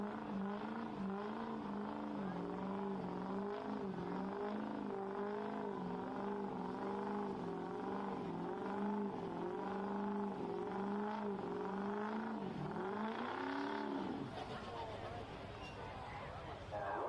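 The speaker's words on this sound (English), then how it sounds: "Our next truck coming to the track with a 2005 Chevy" A 2005 Chevy pulling truck at a truck pull event in Beloit, Ohio, its engine droning loudly and steadily with rising and falling revs as it moves toward the track, then dropping off near the end, with crowd hubbub underneath.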